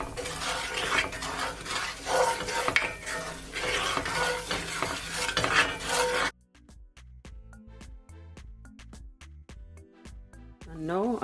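Seasoning is stirred into a sizzling pot for ground beef tacos, a steady loud frying hiss with scraping strokes, then it cuts to quieter utensil clinks and taps against the pot.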